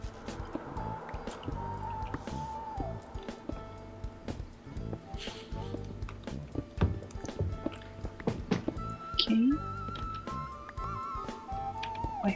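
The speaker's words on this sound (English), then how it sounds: "I hear water." Water flows in Minecraft with soft liquid trickles and drips scattered among other game sounds, fairly quiet and uneven, and a voice speaks briefly.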